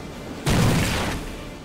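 A grenade goes off in the video game Rainbow Six Vegas 2 with a sudden loud, broadband blast that hits hard and then decays into a long rumbling roar, standing alone without talk.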